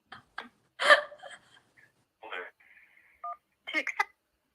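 Touch-tone dialing beeps from a telephone sound in short separated bursts, mixed with brief vocal gasps and breaths during a podcast break for an incoming caller.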